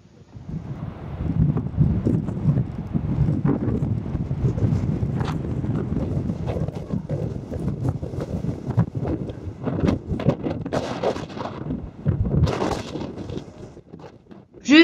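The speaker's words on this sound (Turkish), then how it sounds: "Der Wind weht sehr stark." Gusty wind on the English Channel coast at Ostend buffets the microphone in rough, rumbling surges that rise and fall, loud and close throughout.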